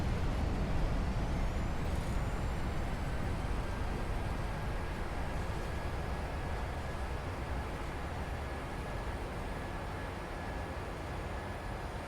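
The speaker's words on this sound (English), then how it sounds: "Reversers out, speed brakes out." Simulated airliner landing in Prepar3D with thrust reversers and speed brakes deployed, a loud steady broadband roar of engine and rushing air that slowly eases, with a faint high whine running through it.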